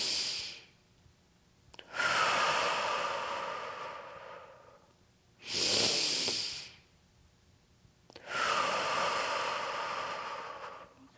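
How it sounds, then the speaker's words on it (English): Slow, deep diaphragmatic breaths drawn in and let out close to the mic, two full cycles of long airy inhale and exhale with quiet pauses between, no talking. "Okay, a couple of breaths here."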